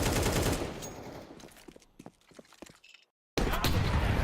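Gunfire in the Counter-Strike 2 video game arrives as dense, loud bursts of rapid shots, thins into scattered single cracks, breaks off into a moment of silence, then returns as heavy firing.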